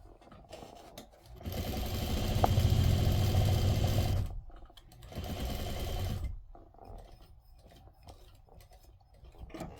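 Sewing machine stitching a patchwork bowl cozy runs in two close, steady bursts of rapid motor-driven needle chatter, pausing briefly between them as the needle is set down and the fabric pivoted, then quieting to faint handling sounds.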